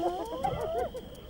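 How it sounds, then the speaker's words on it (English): A young hyena pup left alone near its den gives a series of rising and falling whining calls, fairly close, over a steady background hum. "The hyena pup calls out."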